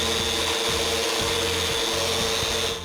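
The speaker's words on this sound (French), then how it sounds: "une ponceuse orbitale soulage d'un travail ingrat qu'est le ponçage" An orbital sander works over a freshly planed wooden board in a workshop, giving a continuous loud motor whir with a low, pulsing drone throughout. No voices are heard.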